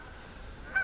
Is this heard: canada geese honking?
yes